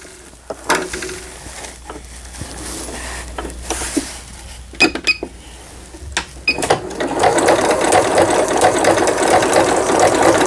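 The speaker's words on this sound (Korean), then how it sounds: "4번에 지그잭 바느질 6번 넓은 지그잭 바느질" A Singer 7640 sewing machine running zigzag stitches, with scattered close mechanical clicks and knocks from dial settings, then a steady rapid whir of stitching building toward the end.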